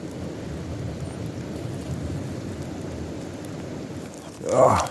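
Rain falling steadily outdoors as a broad, constant hiss close by, with a brief swell near the end that may be thunder or a rustle.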